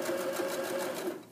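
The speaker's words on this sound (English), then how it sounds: "When you get to the end, backstitch," Sewing machine stitching steadily at a seam's end while backstitching on a drawstring bag, a close, continuous whirring buzz with a regular pulsing rhythm that tapers off at the finish.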